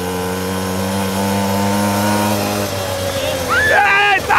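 A mini motorcycle carrying two riders on a beach: a steady buzzing engine drone that fades out midway, followed by excited voices near the end.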